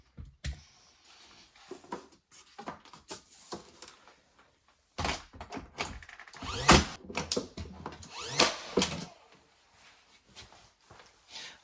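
Bar trim pieces being fastened in place during a DIY bar build, with a series of sharp, irregular knocks, clicks and short tool bursts, louder and denser in the second half, no talking.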